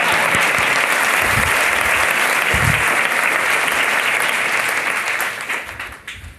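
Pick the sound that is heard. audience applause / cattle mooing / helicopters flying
audience applause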